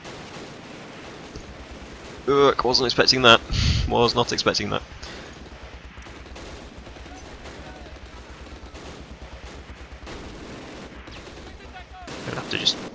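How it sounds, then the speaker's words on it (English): Bursts of MG42 machine-gun fire and explosions in the World War II strategy game Close Combat: Last Stand Arnhem, loud and rapid for a couple of seconds, then quieter battle noise, with a player talking over it. "We ran slap bang into an MG42."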